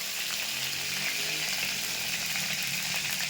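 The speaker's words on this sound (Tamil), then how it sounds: "கருவேப்பிலை போட்டுக்கோங்க. கருவேப்பிலை பொரிஞ்சதுக்கப்புறம்" Curry leaves spluttering in hot oil for a chicken dish, a dense, steady crackling sizzle close up that runs the whole time with no talk.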